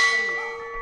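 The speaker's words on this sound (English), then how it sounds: "why do they ding the bell?" A bell struck once by a visitor at a Buddhist temple in Thailand, a bright metallic ding with steady ringing partials that slowly decay, close and clear.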